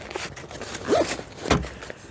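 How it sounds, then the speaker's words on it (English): Two short zipper pulls close a Pathfinder bottle set pouch, quick raspy strokes heard close up against a low hiss. "Zip it up."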